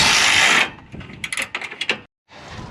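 Ratchet tightening bolts during a Honda repair, heard as a burst of loud close mechanical noise followed by a rapid series of sharp ratcheting clicks, a brief silence, then more grinding.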